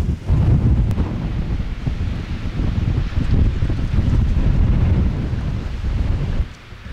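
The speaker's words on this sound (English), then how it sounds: "Tell you what, this wind's brutal." Strong wind on a canyon trail along Oregon's John Day River buffets the microphone in a steady, heavy low roar, loud and continuous with gusty surges, easing briefly near the end.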